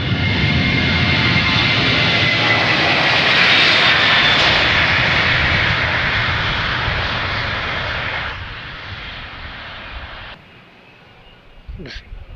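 Aircraft at Sarajevo Airport, a loud, steady engine roar holding for several seconds, then easing off and dropping away toward the end.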